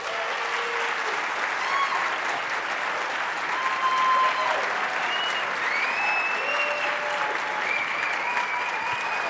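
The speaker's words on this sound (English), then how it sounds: "if you're applauding for me like that" Sustained applause from a large audience at a book tour evening event in New York, steady dense clapping filling the room throughout, with faint voices and cheers rising over it now and then.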